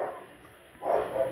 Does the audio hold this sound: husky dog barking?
yes